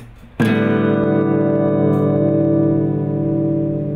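Guitar open strings strummed together once, tuned for a lesson: one sharp strum followed by a long, ringing chord that sustains and slowly fades, heard alone.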